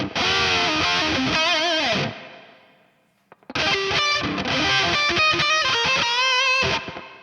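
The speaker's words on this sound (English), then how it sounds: "I do have a reverb that's being automated to turn on when the solo hits." Heavily distorted electric guitar plays loud riffs with a reverb tail, pausing briefly in the middle as the sound fades, then crashing back in.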